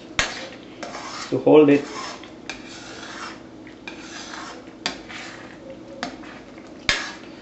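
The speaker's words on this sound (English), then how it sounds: "so you got the ghee in there, and your goal is to mix the ghee" A spoon scraping and rubbing through a thick Mysore pak mixture as ghee is worked into it in a pan, with uneven metallic scrapes and clinks between pauses, and a brief spoken phrase.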